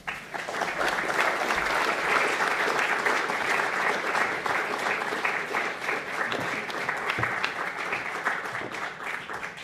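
An audience at a talk on the birth of American independence breaks into warm, sustained applause, a dense steady wash of many hands clapping that holds throughout before easing slightly toward the end.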